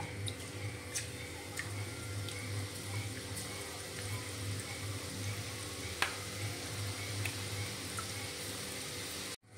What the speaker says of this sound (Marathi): असा मी हा लाल होईपर्यंत बारीक चुरा भाजून घेतलेला आहे चटणी करण्यासाठी